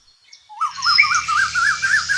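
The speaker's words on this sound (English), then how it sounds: "Cuckoo." A bird call rises after a brief quiet start, settling into a rapid, warbling series of repeated notes, fairly loud and clear, with faint low background noise.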